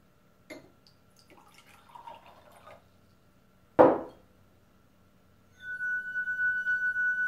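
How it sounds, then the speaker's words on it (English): Water trickles and drips into a wine glass being tuned as a glass harp, with a sharp splash midway, then the rubbed glass rings out in a steady, sustained pure tone. "you want to add some water."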